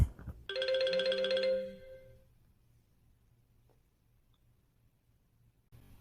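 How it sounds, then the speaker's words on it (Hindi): An incoming call rings on a mobile phone: a single bright, melodic electronic ringtone burst lasting about a second and a half, followed by quiet room tone and a faint click at the end. "आप देख सकते हैं मेरे मोबाइल पर फ़ोन आ गया, मैं इसको रिसीव कर लेता हूँ।"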